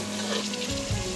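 Mixed vegetables for achari mix sabzi frying in a pan with salt and ground coriander, a steady close sizzle with a stirring stir partway through, no voices.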